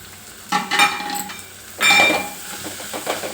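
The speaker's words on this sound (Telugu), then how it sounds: "మగ్గాక కొద్దిగా పసుపు వేసుకొని శనగపిండి పొడిగా వేసుకొని దీంట్లో కలుపుకోవటమే." Gram flour and turmeric stirred into onions frying in a pan for an onion curry, giving a steady sizzle with two louder scraping stirs of the spoon, close up and with no voices.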